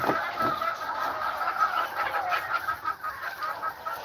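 Chickens on a small farm clucking steadily as a flock, a dense, continuous murmur of overlapping calls held at an even, fairly loud level throughout.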